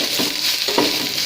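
Sliced capsicum goes into a pan of nearly fried onions for stir-fried Tibetan thenthuk, giving a steady loud sizzle with soft stirring scrapes through it and no voices.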